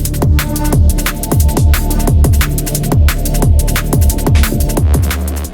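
Dark liquid drum and bass produced in FL Studio, with master effects applied: a dense, loud mix of hard-hitting kicks, sharp snares and bright hats rolling at a fast tempo over a steady low bass and pad bed.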